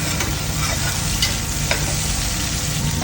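Tomato with garlic and lemongrass fries in a hot pan under steady, loud dense sizzling, with faint scraping of stirring throughout.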